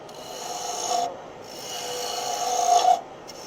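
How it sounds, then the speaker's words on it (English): A roughing gouge cuts wood on a lathe while turning a honey dipper, giving a steady raspy scraping hiss that swells in two passes, close and fairly loud with no talk. "Come back with the roughing gouge"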